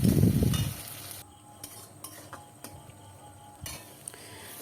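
Four medium onions, chopped, hit a pan of hot oil and sugar with a loud initial sizzle, then settle into a quieter steady frying hiss with occasional light utensil clinks and stirring scrapes.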